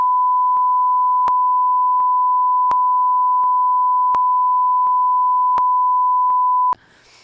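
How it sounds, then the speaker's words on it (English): A steady censor beep tone runs unbroken for nearly seven seconds, loud and continuous, standing in for spoken words, then cuts off abruptly into a brief faint breath of room noise. "can you just like put a whole beep on what I'm about to say?"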